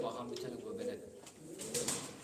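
Purebred Sivas pigeons kept and fed indoors coo softly in low, rolling phrases, with a voice speaking over them.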